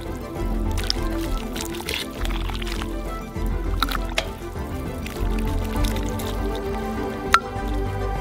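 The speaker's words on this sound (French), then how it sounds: "vous pouvez remplir une assiette" Fish soup poured and ladled into a plate, wet splashing and dripping in short bursts with soft squishes and a sharp clink, close and without talking.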